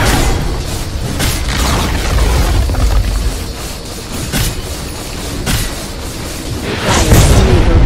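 Barracks blow up in Dota 2, a loud rumbling explosion with repeated booming bursts and crumbling debris that swell again at the end.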